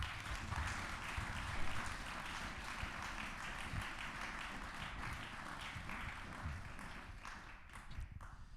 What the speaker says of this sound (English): I think we should have another round of applause for Kamal.